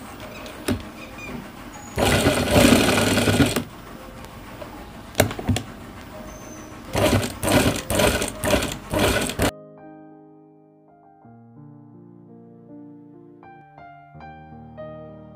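A sewing machine stitching a men's kurta pajama whirs in two close bursts with a pause between them, followed by a stretch of music.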